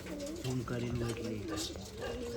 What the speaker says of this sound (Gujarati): મસ્ત મસ્ત કબૂતર લેણો આગળ હેડો